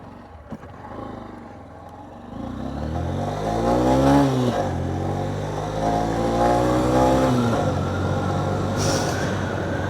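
A Honda CB125F motorcycle fitted with an electronic jet kit labours up a driveway. The engine note rises and climbs steadily under load, loud and close, with no talking.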